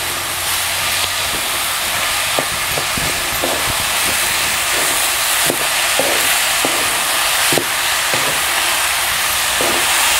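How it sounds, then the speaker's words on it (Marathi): Chana dal and jaggery are stirred in a pan over steady loud hissing and sizzling, with scattered scrapes and clicks of the spoon against the pan. "आता छान असं मिक्स करून घेऊया."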